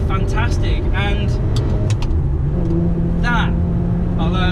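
Ferrari 360 Modena engine revving with a steady low mechanical roar and repeated rising rev sweeps, loud and close, while someone talks over it.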